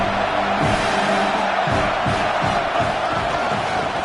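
A stadium crowd in an NCAA college football video game roars and cheers in a dense, loud, continuous wash, with low rhythmic chant-like swells rising through it.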